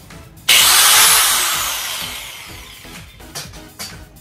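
A Makita 800W angle grinder starts abruptly with a loud, high whine that slowly winds down as it spins, followed by a few fainter clicks and handling sounds.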